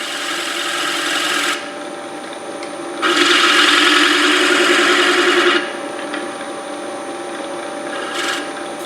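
A 1/4 inch deep gouge cuts the wall of a turned wood bowl's button on a lathe, a broad rushing scrape in two sustained passes, the second longer and louder, over the lathe's steady hum.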